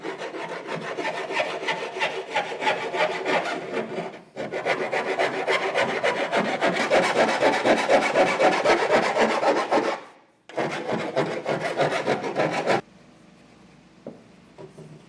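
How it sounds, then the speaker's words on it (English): A hand file rasps back and forth over the sharp edges of a hole-saw cut in a Ford F-series truck bed, rapid close strokes in long bursts with two short pauses, then quiet handling noise. "So I'm going to get this all kind of filed down,"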